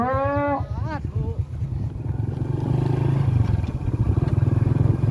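Goats bleat outdoors at a Lao boat-racing festival, several wavering calls near and fairly loud at the start, then fading under a steady rumble of crowd and engine noise.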